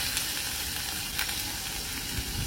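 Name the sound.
garlic, curry leaves and onions frying in oil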